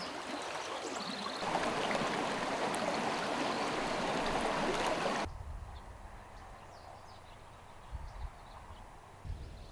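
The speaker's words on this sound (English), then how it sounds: "But this is the creek that he would have crossed." Creek flowing through a long canyon in California, a steady broadband rush of water that is louder for the first five seconds, then drops to a quieter trickle with a few low thumps.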